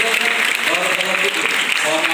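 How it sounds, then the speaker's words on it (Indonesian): Student audience at a public speaking motivation event clapping together, a continuous bright patter of many hands with a voice faintly mixed underneath. "Tepuk tangan untuk kita semuanya hari ini"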